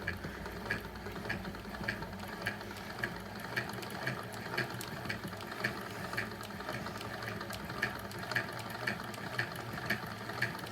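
A worn crank grinds as it is spun by hand to work oil into its parts, producing a continuous rough whirring with a regular clicking rhythm, close and steady throughout.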